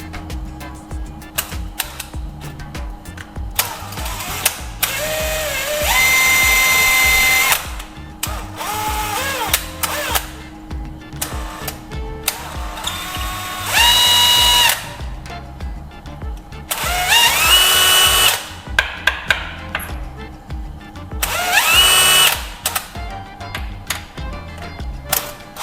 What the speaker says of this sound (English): I'll carefully drill right into the original hole.